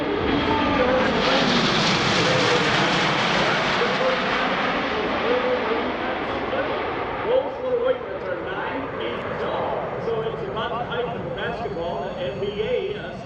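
A C-17 Globemaster III jet transport flies a demonstration pass at an air show, a loud, broad jet roar that sweeps past and then fades into a lingering distant rumble as a voice talks over it.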